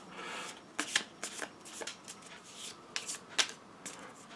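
Alien encounter cards for an Alien: Fate of the Nostromo board game being shuffled by hand, a series of quick riffling flutters and soft slaps, close and fairly quiet, with no voices.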